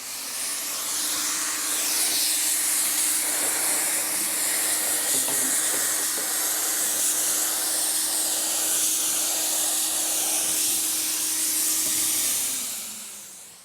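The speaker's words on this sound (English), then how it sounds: "That's what I'm going to be focusing on when I'm spraying my PlastiDip spray." PlastiDip rubber coating sprays steadily from an aerosol can onto a car, a continuous close hiss held for about ten seconds before tapering off, no talking.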